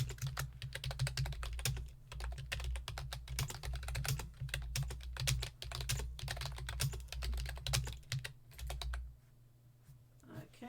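Rapid clattering keystrokes on a computer keyboard run almost continuously at close range over a low background hum, then stop abruptly near the end.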